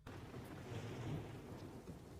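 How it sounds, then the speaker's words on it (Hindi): Thunder rumbles low and rolling before rain, with a soft hiss of rainfall mixed in, heard somewhat distantly and without voices. "हे भगवान, कितनी तेज गरज हो रही है। लगता है कि बारिश होने वाली है।"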